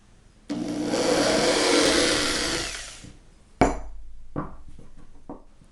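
A power drill bores holes through the wooden sides of a workbench, with one long, loud whirring run of nearly three seconds, then several short bursts as the bit is pulsed back in, close by.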